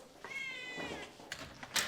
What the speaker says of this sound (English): It's Oliver the shop cat. He wants to go inside.